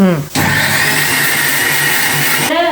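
A mixer grinder blends mushroom masala without water, giving a loud, close, steady whirring grind for about two seconds, with brief voices just before it starts and right after it stops.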